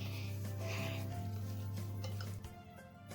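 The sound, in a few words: stirring pancake batter in a bowl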